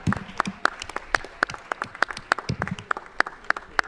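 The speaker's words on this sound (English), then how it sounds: "a big round of applause" Audience in a city council chamber breaks into a round of applause after a meeting, steady dense clapping with sharper individual claps standing out, fairly close and sustained throughout.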